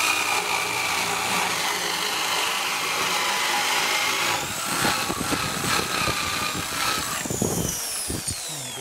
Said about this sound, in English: So that's four holes that he's drilled.